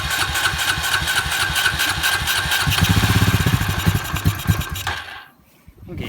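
A Honda Rancher 350 ATV engine with a leaky carburetor fires up after priming and runs loud and close for a few seconds with a rough, pulsing idle, then cuts out abruptly into near silence before a faint restart of noise.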